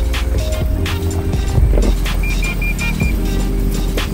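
Toyota Land Cruiser 300 ZX crawling slowly downhill off-road in four low, with a steady low engine drone, faint creaks and bumps from the chassis and terrain throughout, no talking.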